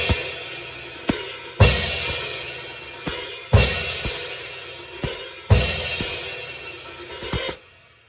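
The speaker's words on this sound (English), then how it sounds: "what I'm doing is open hi-hat on 2 and 4" A drum kit plays a steady groove of 16th notes on the hi-hat, with big hits and an open hi-hat accenting beats 2 and 4. The bright cymbal wash is sustained over recurring strong strikes, and the sound stops abruptly near the end.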